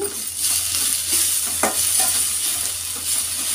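Tomato and capsicum with a little turmeric and salt cook in a pan, giving a loud, steady sizzle up close with a couple of brief scraping stirs and a low hum beneath, no speech.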